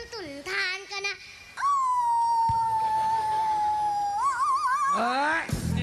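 A person makes a long, wavering vocal yelp that imitates a little dog trying to bark. It comes between short bursts of speech at a comedy stage show and sounds close and fairly loud.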